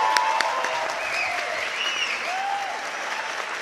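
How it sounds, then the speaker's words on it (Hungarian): A winter camp crowd claps warmly for its first-time campers, steady, full applause with scattered whistles and shouts running throughout. "Még egy nagy tapsot az első táborozóknak."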